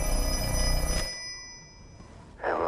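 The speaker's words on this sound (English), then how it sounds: "once again, the phone's ringing" Telephone bell ringing from the Black Phone 2 horror film, a loud ring with a bright high-pitched burst that cuts off and returns near the end, over a low rumbling background.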